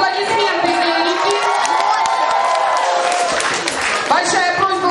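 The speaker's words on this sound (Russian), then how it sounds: "Аплодисменты, Эрике." At a children's quiz contest, kids applaud and cheer for a contestant named Erika, loud and close, with shouts and whoops over dense clapping while an adult voice speaks through it.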